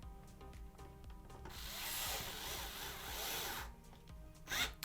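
Small screws being driven into the bottom cover of an Xbox Series S controller during a sync button repair, giving soft close-up scraping and rubbing with a louder burst of driver friction in the middle.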